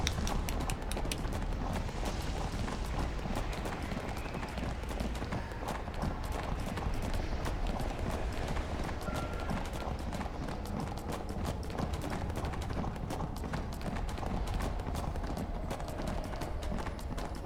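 Horse hooves clip-clop steadily while riding up a staircase in the Neverwinter video game, a continuous run of loud, dense hoof beats layered over busy game sound throughout.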